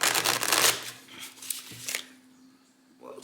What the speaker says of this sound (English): last deck I'm gonna sit here and shuffle.